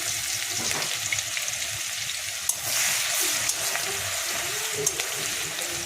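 Crushed garlic sizzles and fries steadily in a pan of hot oil while a yogurt chicken dish is being cooked, with occasional stirring scrapes over a continuous hiss.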